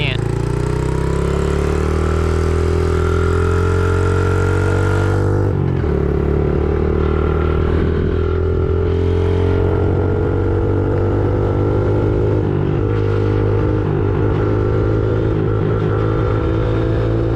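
A small 50cc dirt bike engine buzzes steadily while being ridden, with its pitch rising and dropping as the throttle changes, loud and close throughout.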